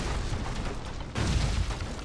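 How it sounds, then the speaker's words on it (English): Explosion in the video game Shadow Complex, a dense, booming low-end blast that swells louder partway through and rumbles on steadily for about two seconds with no talk. "I think the foam amplifies the explosion."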